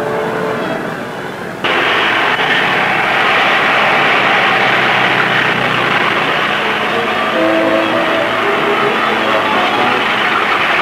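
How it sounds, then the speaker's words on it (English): Large passenger airliner engines droning steadily, a loud, broad roar that jumps up in level after a moment and then holds constant. "This giant of the air is only one of the planes available for speedy travel."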